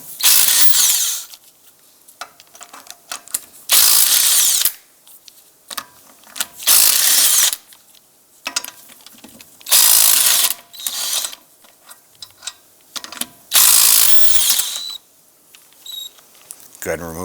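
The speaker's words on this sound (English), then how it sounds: "Using a 19mm socket, go ahead and remove the lug nuts." A power ratchet fitted with a 19mm socket spins lug nuts off a 2001-2007 Ford Escape wheel in loud, whirring bursts about a second long. Quiet gaps separate the bursts, and light clicks and handling noises fill them.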